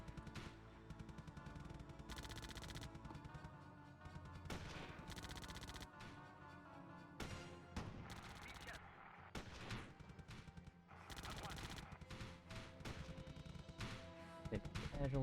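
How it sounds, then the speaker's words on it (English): Battle gunfire in the Theatre of War French campaign, with soldiers and a tank facing an anti-tank gun: dense, continuous volleys of rifle and machine-gun fire and heavy blasts, sustained and loud throughout. "They're still shooting. Inflicting some enemy casualties."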